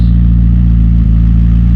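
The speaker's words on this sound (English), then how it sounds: "hear a little bit of the exhaust" Deep, steady exhaust rumble from an idling 2019 McLaren 600LT, low and throbbing, loud and close with no revving.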